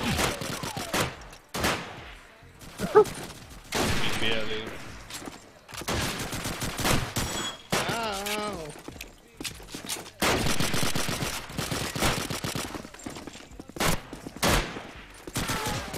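Bursts of gunfire in Call of Duty 2, rapid clusters of loud shots separated by brief gaps, with someone talking in between and over the shooting.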